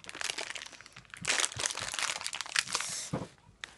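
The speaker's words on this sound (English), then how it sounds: "A share pack, dessert flavoured poppers with a crunchy centre." Crunchkins dessert-flavoured poppers with a crunchy centre crackle and crunch in close, repeated bursts of chewing, loud and near, with no talk.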